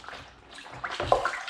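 Water runs from a tap for rinsing, a splashing, hissing flow that swells louder toward the end, fairly close and with no talk over it.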